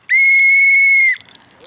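A single whistle blast, loud and close, holds one steady shrill tone for about a second before cutting off to quiet background.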